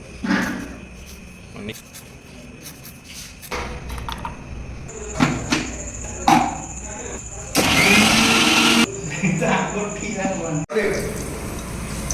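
A mixer grinder grinding ginger in a home kitchen gives a loud, rough whirring burst of about a second, then starts again near the end, among clatter and someone talking.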